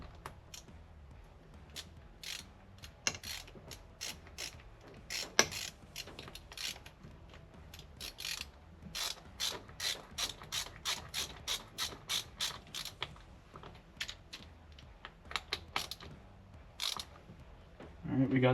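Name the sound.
ratchet tightening bolt on Honda XR80 adjuster plate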